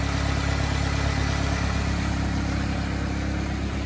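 A 2014 Subaru Legacy Outback's 2.5-liter engine idles evenly nearby, a steady mid-pitched hum and purr with faint broadband hiss, no talking over it.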